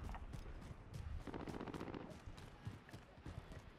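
Gunfire in Call of Duty: Modern Warfare during a duos match, faint and distant, with scattered rapid shots and short bursts repeating over a quiet mechanical background.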